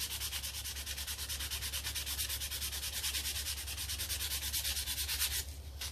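Steady, continuous sanding rasps along the rough edges of a homemade butcher knife cut from an old saw blade, a close, even rhythmic rubbing that runs throughout and eases off near the end.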